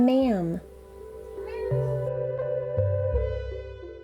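A cat meows indoors during a home crochet lesson: one drawn-out, rising-and-falling meow at the start, then a steady low hum with faint background sounds.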